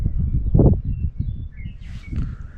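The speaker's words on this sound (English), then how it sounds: "Very peaceful, only hearing the birds" Birds chirp outdoors in a quiet, peaceful open landscape in Utah, a few thin high calls heard faintly at a distance while a voice talks over the start.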